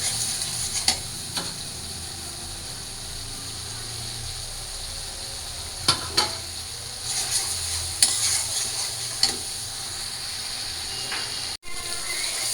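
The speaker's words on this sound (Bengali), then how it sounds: "মশলাটা একটু কষায় নিই" Spice masala fried and stirred in a cooking pan, a steady soft sizzle with occasional scraping and clinks of the spoon against the pan, close and continuous.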